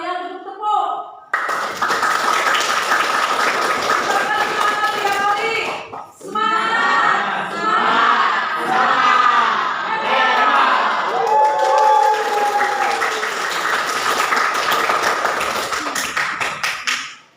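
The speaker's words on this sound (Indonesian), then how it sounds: "Ibu minta kalian untuk tepuk." A class of students in a school lesson claps together in a rhythmic group cheer, loud and close, with voices calling and chanting over the clapping throughout.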